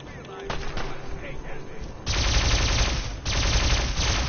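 Gunfire from trappers in Fallout 4 Far Harbor: scattered shots at first, then dense, loud rapid bursts of automatic fire that briefly pause and resume, close and with no talking.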